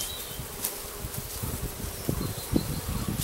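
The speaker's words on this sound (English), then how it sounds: "Look at that lovely bee." Bees hum in a dense, steady buzz at an open hive, with individual insects droning close past the microphone now and then.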